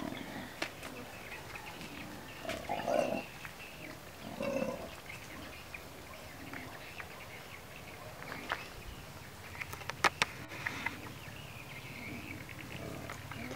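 Wild boars caught in the forest and raised by a farming household grunt in low, faint, scattered bursts over steady background noise.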